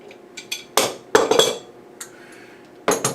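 A metal adapter being tightened into pipe threads gives close, sharp metallic clinks and taps in irregular bursts, with brief scraping between them.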